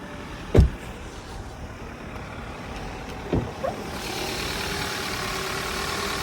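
A 2016 Audi A6 2.0 quattro engine runs at a steady low idle on its first start of the day, with a few soft knocks and clunks nearby.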